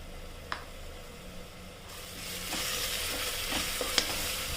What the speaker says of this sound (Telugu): దీనిలోనే ఆనియన్ వేసుకోవాలి దీన్ని కూడా ఒకసారి ఫ్రై చేసుకోవాలండి గోల్డెన్ కలర్ వచ్చేంత వరకు